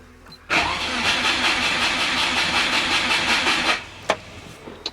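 A car engine cranks after an automatic-to-manual transmission swap, loud and close, as a steady rhythmic starter churn for about three seconds that fails to catch, followed by a couple of sharp clicks.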